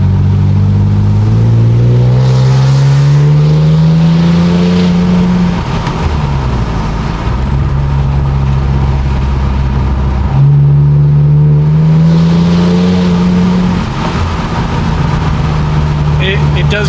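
An Infiniti Q60 engine revving hard through an aftermarket exhaust with downpipes, rising in pitch, dropping back, then climbing again in two strong pulls.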